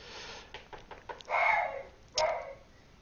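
A dog indoors makes a few short, faint noises, then two louder whining or yelping bursts, all at a modest distance.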